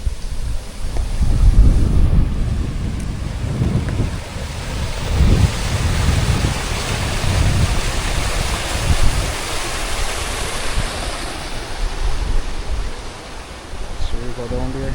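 A river flows beneath a bridge, giving a steady broadband rush of water with wind buffeting the microphone. Low rumbles rise and fall throughout, and a voice speaks briefly over it.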